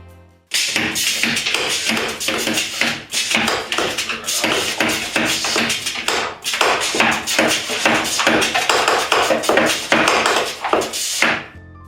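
Pneumatic pipe monster haunted house effects fire in a rapid, continuous series of sharp taps and thuds for about eleven seconds, loud and close, with no talk.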